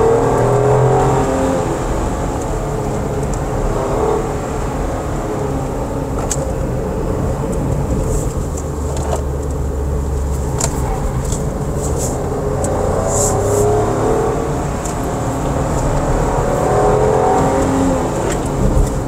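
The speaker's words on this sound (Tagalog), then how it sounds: "Eh na, medyo naririnig ko yung tires." A 2024 Suzuki S-Presso AGS drives steadily with a constant roar of tires on the road and engine drone, close and fairly loud, with occasional light clicks.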